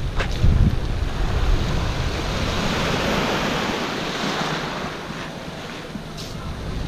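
Surf washes onto Eden Beach by the Eden Beach Resort on Bonaire, a broad, continuous rush of waves with steady wind buffeting the microphone and a few low thumps near the start.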